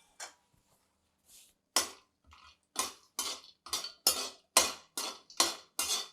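Dry fruits roasting in a pan for carrot halwa, a steady run of sharp scraping clinks from a spoon stirring them, close and distinct, coming roughly twice a second after a few scattered opening knocks.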